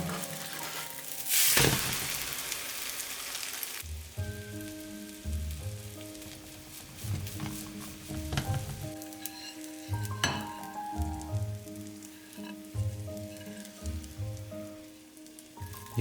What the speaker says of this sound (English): Flip and cook the other side.